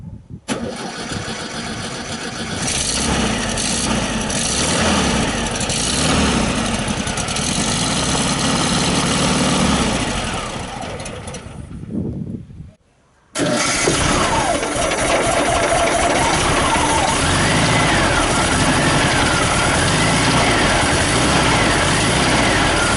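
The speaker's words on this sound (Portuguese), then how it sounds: "o motor não sustenta a marcha lenta" A 1974 VW SP2 engine cranks, catches and runs loud and rough, unable to hold its idle, which wavers unevenly, briefly cutting out before restarting and running on.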